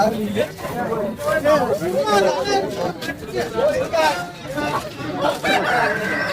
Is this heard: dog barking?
no